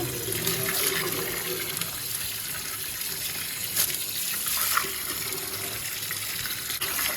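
Leafy greens rinsed under a running tap in a home kitchen, a steady close wash of splashing water with a few brighter splashes, no talking.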